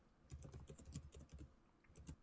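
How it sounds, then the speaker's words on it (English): Keys clatter on a computer keyboard in quick, irregular bursts of taps, fairly close and steady, with no talking over them. "Whoever's typing needs to stop, because that's all I can hear"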